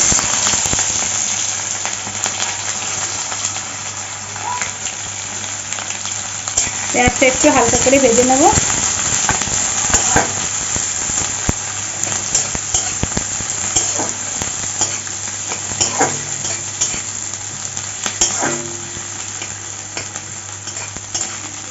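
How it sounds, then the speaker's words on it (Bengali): Steady sizzling of chopped onions frying in hot mustard oil, with occasional stirring scrapes and utensil clinks, close and continuous throughout. "তেলটা গরম হয়ে গেছে পেঁয়াজ কুচি দিয়ে দিচ্ছি"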